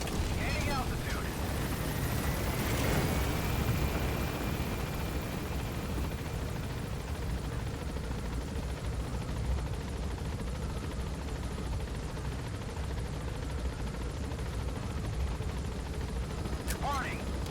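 An extraction helicopter lifts off in Metal Gear Solid V, its rotor a steady low droning thump that runs continuously and fairly loud, with a brief whooshing sweep early on and faint game effects mixed in.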